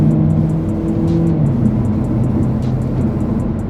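A 2024 Hyundai Elantra Limited with a CVT and programmed shift points pulls steadily from inside the cabin, its engine drone loud and continuous, with pitch steps at quick simulated shifts and no talk.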